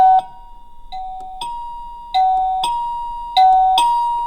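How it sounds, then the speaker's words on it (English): A SadoTech wireless doorbell chime rings a short tune of bright, bell-like tones, several struck in sequence with each ringing out and decaying, close and clear with no talking over it. "there's 52 different sounds, different ringers. So you can just press that button."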